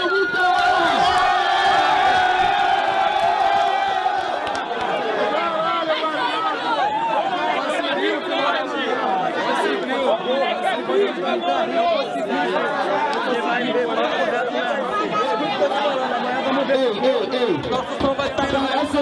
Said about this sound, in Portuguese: Barulho mão pro alto, Orochi